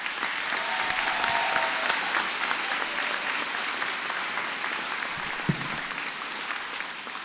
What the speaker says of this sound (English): Let us now applaud these graduates.